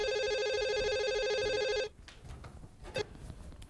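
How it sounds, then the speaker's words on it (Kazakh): A telephone bell rings loudly and clearly in a home for about two seconds, then cuts off, leaving only quiet room sounds and faint movement. "Ай, Айбол, телефонды ал!"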